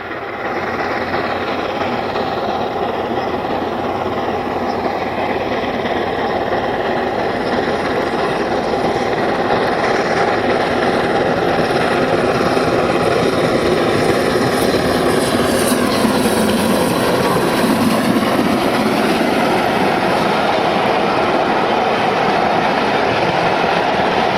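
LMS Stanier steam locomotive 6201 running on the mainline with the Dalesman at Kirk Hammerton, a loud sustained roar of the train passing close by, steady and broad throughout with no voices.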